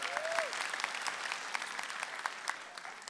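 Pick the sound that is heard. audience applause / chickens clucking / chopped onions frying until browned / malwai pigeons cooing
audience applause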